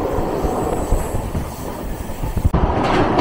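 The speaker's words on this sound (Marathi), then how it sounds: "कमान नदीच्या रेल्वे ब्रिजवरून आपली गाडी गेली." Konkan Railway train 10115 rumbles loudly and continuously across the Kaman river railway bridge, with close rhythmic clattering of wheels and a sharp change in tone near the end.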